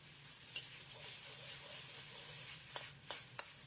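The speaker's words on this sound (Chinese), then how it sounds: "继续开大火快速翻炒，开启旋转模式，把调料迅速炒化开" Garlic and crown daisy stir-fried in a wok over high heat with salt, sugar and oyster sauce: a steady close sizzle and hiss, with a few sharp scraping clinks of the spatula near the end.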